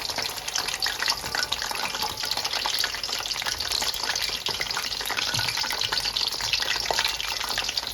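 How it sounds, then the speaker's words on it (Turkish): Eggplant pieces fry in oil, sizzling and crackling steadily and loudly throughout, a dense continuous frying hiss with occasional pops, no voices. "Bunları böyle her tarafını çevire çevire kızartacağım."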